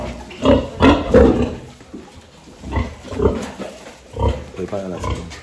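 A sow on a pig farm grunts in low, rough bursts spaced through the moment while handlers talk close by during artificial insemination.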